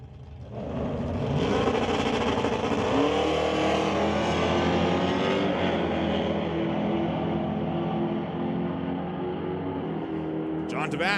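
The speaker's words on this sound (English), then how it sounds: "Chris Stone facing off in that Dodge Dart for Wilbur Chrysler and Stone Cold Racing." Dodge Dart drag car in a Pro Bracket semifinal at an ET series drag race, its engine roaring loud and sustained from launch down the track, layered with a second racer, while an announcer talks over the noise throughout.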